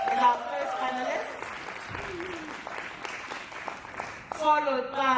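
An audience applauds panelists walking onto stage at a colloquium, moderate clapping that fades into a voice on a microphone, then swells again near the end as more speech comes through.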